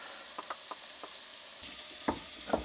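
Vegetables frying in a pan with garlic and onion make a quiet, soft sizzle, broken by several light scrapes and taps as they are stirred, with the last two a little louder.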